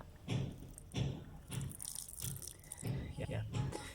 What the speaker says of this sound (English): I can also water this one